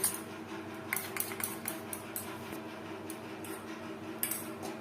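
A spoon clinks and scrapes against a bowl while thick stuffing batter for stuffed kakrol (spiny gourd) is mixed, with a pinch of baking soda added, giving a run of light, irregular taps over low kitchen background hum.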